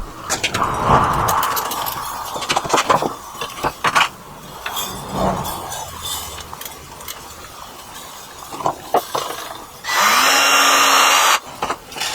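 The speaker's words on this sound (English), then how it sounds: "using 5/8 wood screws to attach the" A power drill whirs in several short bursts while driving 5/8-inch wood screws into a wooden box drum to mount the snare. The bursts are mixed with clinks and handling of tools, and the longest steady whir comes near the end.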